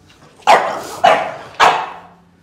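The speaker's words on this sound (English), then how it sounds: "Right, stop barking. Stop barking." A dog barks three times in quick succession, each bark sharp and close, with short pauses between them.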